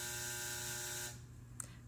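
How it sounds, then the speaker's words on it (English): A hair dryer runs with a steady humming whine during starter loc styling, then switches off abruptly, leaving a quiet room with one small click afterward. "And the dryer again."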